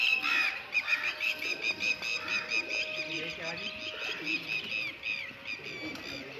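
Pigeons squawk and call repeatedly in a busy, close chorus, with soft cooing and some voices in the background.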